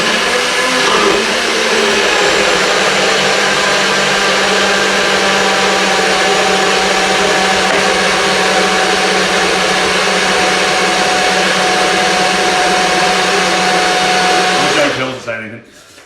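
A kitchen blender blitzing smoothie ingredients such as frozen banana roars loud and steady for about fifteen seconds, then winds down and stops.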